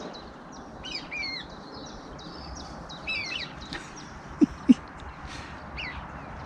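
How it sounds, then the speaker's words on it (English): A moorhen chick left behind in reeds beside a tench fishing swim calls repeatedly with thin, high piping notes in short bursts, over steady outdoor background noise, with two sharp knocks near the end. "It's a moorhen chick in these reeds here that's been left behind"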